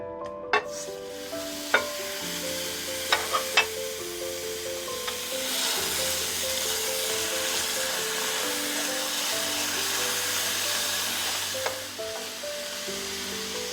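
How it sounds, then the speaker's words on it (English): Ground beef sizzles steadily in a skillet, a continuous broadband hiss with a few sharp clinks of a utensil early on and stirring scrapes, no talking. "In the same skillet, I'm going to add in the ground beef."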